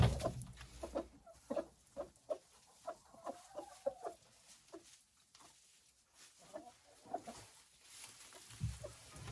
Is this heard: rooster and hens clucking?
yes